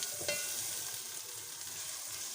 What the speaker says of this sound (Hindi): इसको सिर्फ सौते करना है, ज़्यादा फ्राई प्याज को नहीं करना